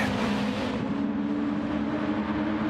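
Race car engines during a Gran Turismo league race in the video game, a steady loud droning roar of cars at speed with a sustained engine tone, no voices heard.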